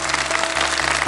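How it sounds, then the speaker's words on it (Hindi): Dense, even applause fills a hall at a couplet (bait baazi) competition during a Ramazan gathering, a steady wash of many hands with a low electrical hum beneath it. "पार्टिसिपेंट ए के हक में तालियां बजा दीजिए"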